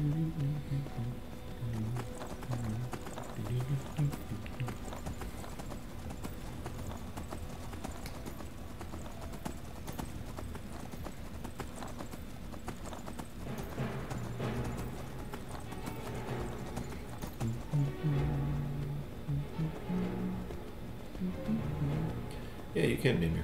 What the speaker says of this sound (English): Alright, Super Mario's horse.